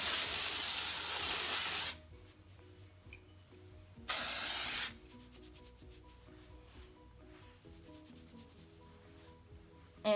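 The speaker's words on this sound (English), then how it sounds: "We are gonna spray with my head upside down." Dry shampoo aerosol sprayed onto upside-down hair in two loud, close hissing bursts of about two seconds and one second, with quiet rustling and hair rubbing in between and another spray starting at the end.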